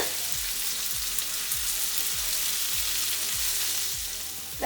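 Onions that have been salted sauté in oil in a pan for a winter squash stir fry and have started to wilt. A loud, even sizzle carries on without a break, marked by soft, regular scrapes and a small knock at the end.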